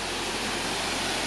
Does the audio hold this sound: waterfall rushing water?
yes